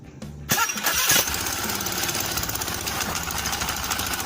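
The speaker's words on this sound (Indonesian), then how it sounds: "yuk hidupin ke bawah starternya" A Honda Beat scooter's electric starter whirs briefly, then the engine catches and settles into a steady, close, buzzing idle.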